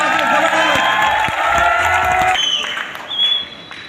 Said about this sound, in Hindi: मेरे बिजनेस गुरु सीएमडी सर के लिए एक बार जबरदस्त ताली होनी चाहिए